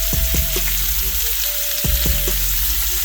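A couple of sausages fry in a hot pan for an Irish breakfast, giving a loud, steady sizzle with a few low knocks and bumps as they settle, with no talking.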